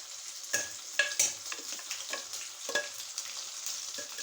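Vegetable rice with tomato, chilli, mint and coriander stirred in a pot, irregular scraping strokes of a spoon at close range over a soft sizzle.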